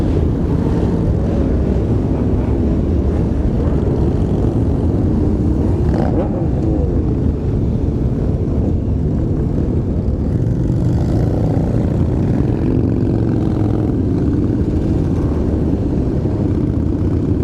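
Many motorcycles riding on a road during a large gathering, a loud continuous engine roar heavy with wind buffeting, recorded up close from among the riders.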